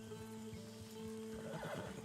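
A horse in the video game Red Dead Online neighs with a drawn-out whinny while hooves clop nearby over a steady background of game ambience and music.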